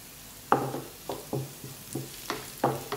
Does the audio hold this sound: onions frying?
yes